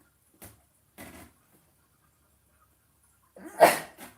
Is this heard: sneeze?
yes